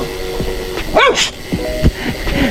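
A dog barks several times in short yelping bursts, loud and close, with a louder cluster near the middle and a few scattered single barks around it.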